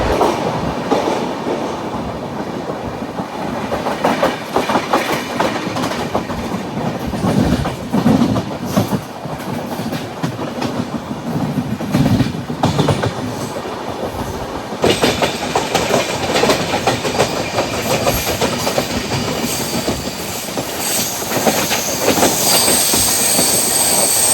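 Duronto Express train rolling on rails at the end of the Konkan Railway, a loud continuous rumble with clickety-clack joints and bursts of squealing wheels, heard from inside the coach with no talk.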